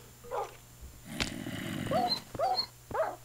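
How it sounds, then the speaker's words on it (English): A dog in the video game Lethamry lets out several short yips and barks spaced across a few seconds, fairly close and clear, with quiet game ambience between. "Dog, get out of there."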